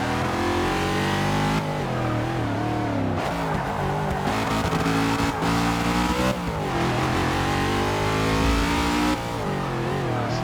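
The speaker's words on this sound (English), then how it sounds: "Last lap, we're racing it to the finish." Race car engines in the video game Forza 6 rev continuously and loudly, pitch rising and dropping with gear shifts over a sustained drone of competing cars.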